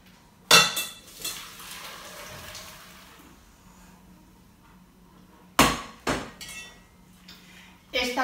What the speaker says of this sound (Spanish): Ahora simplemente vamos a colar.